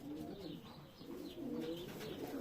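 Young pigeons in a loft coo in soft, repeated low murmurs close by, with faint chirps mixed in and no talking over them.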